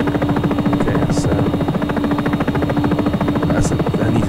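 Steady whirring rotor and engine drone of a Sikorsky S-76 helicopter in the X-Plane 11 flight simulator, a constant pulsing buzz with a low hum, loud and unbroken throughout.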